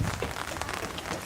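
Rain falls during an outdoor film shoot, a dense steady patter of drops on surfaces heard close and fairly loud for a brief moment.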